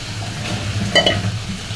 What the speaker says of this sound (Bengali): এখন মশলাটা কষাই নিছি, এখন বেগুনটা দিয়ে দিলাম।